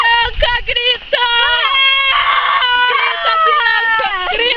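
A girl shrieks loudly and without a break, a piercing, wavering scream that rises and falls in pitch, right up close, after a brief burst of other voices at the start.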